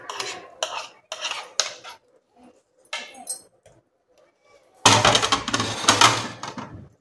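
Cucumber, onion and tomato koshimbir salad with curd is spooned into a bowl, giving several short clinks and scrapes of cutlery against dishware in separate bursts, then a louder, denser clatter near the end.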